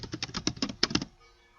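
Rapid typing on a computer keyboard while entering an account description in accounting software: about a dozen crisp, close keystrokes in quick uneven bursts over one second, then quiet.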